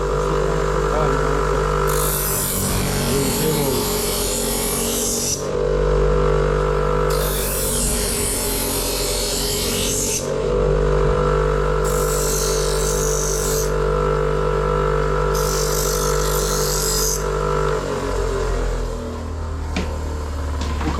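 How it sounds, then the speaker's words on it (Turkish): A bench grinder motor hums steadily while a harsh, hissing grind of metal against the stone comes in four separate bursts, each lasting a couple of seconds, loud and close. "bu şekilde taş motoruna sürterek temizleyebilirsiniz, eğleyebilirsiniz."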